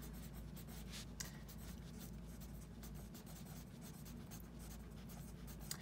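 Pencil or pen drawing and writing on paper, a steady close scratching and rubbing that continues without pause and with no talk over it.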